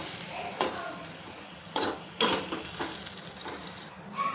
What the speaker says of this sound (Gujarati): મસ્ત બધી મેગી એડ કરી અને સરસ રીતે આ મિક્સ કરવાનું છે.